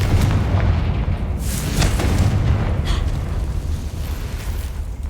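A Confringo blasting spell explodes in Hogwarts Legacy, a loud rumbling blast with a deep roar and a couple of sharp bursts that decays slowly over several seconds.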